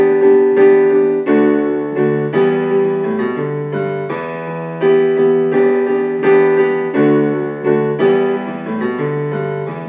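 Piano playing the opening riff of a song, a steady flow of repeated melodic notes over held chords at moderate loudness, played alone.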